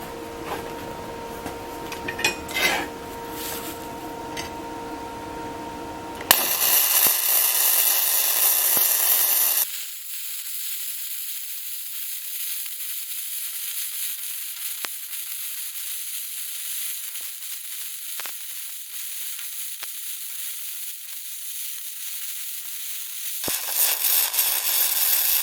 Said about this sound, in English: we're welding 3/16 plate, doing a butt weld. We're using flux core, and we got 105 amps